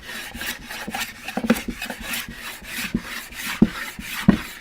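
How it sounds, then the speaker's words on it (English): A jack plane shaves wood in repeated rasping strokes, a steady back-and-forth rhythm of close, fairly loud passes, each with a faint knock as it ends. "So I'm going to just do a little bit more planing."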